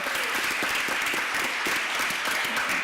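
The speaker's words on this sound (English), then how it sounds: "I want to you give yourself a round of applause" Dense, steady applause from a large crowd, many hands clapping continuously at a constant loud level throughout.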